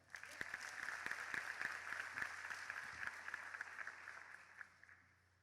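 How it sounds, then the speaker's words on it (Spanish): Church congregation clapping together, a moderate steady patter with scattered sharper claps near the front, fading out at the end, with a low hum underneath. "Un fuerte aplauso."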